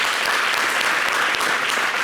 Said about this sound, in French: Applaudissez pour ça quand même